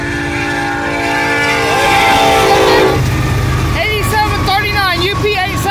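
Union Pacific 8739 freight train rolling through rural Saint Elmo, Illinois, loud and close, its horn sounding in a long sustained blast over heavy rail rumble, followed by bell-like warbling tones as the cars pass.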